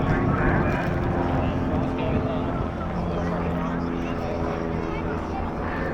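A display aircraft rolls above the RAF Cosford airshow in 2019, its engine a steady, loud roar that runs unbroken through the whole stretch beneath continuous public-address commentary.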